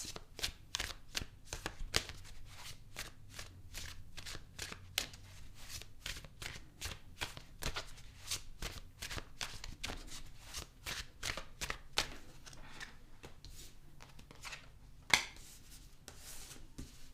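Tarot cards are shuffled by hand in quiet, soft rapid riffles and slaps repeating in a steady rhythm, close and faint, with one slightly louder snap near the end.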